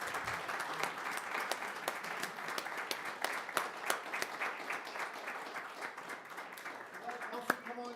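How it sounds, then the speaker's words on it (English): Applause at a city council session honoring police officers: a steady crowd of many hands clapping throughout, moderately loud and dense, with a few sharper individual claps standing out near the end. "can we give a round of applause to all of our police for all they do for us?"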